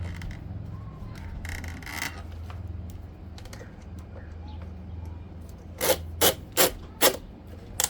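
A ratcheting crank on a Thule Epos 2 hitch bike rack clamps a bike wheel, giving four sharp, close, evenly spaced clicking bursts after quiet handling noises.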